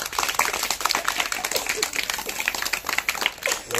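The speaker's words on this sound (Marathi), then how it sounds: "ह्या आपल्या 3 खेळाडूंसाठी एकदा जोरदार टाळ्या होऊन जाऊ द्या" Students clap for three players at a school slow-cycle race, giving a steady, dense spatter of hand claps from a crowd that continues throughout.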